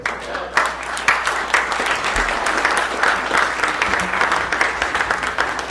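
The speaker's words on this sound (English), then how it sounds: "give me another round of applause for Vince Palamara" Sustained audience applause fills the room at the close of a 2019 presentation on the JFK assassination and the Secret Service, steady dense clapping with no voices over it.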